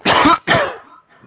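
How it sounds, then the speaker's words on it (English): Two quick, harsh coughs close to the microphone, one right after the other, followed by quiet. "Who the hell's coughing in my ear?"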